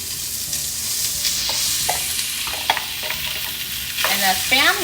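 Spam sizzles and crackles steadily in a pan with golden-brown garlic, with scattered sharp pops and scraping stir sounds, close and fairly loud, and a brief squeaky tone near the end.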